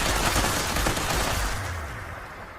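A heavy gun firing in Fallout 76, a dense rapid burst of loud close shots that rolls on steadily and then eases off slightly toward the end, with no talk.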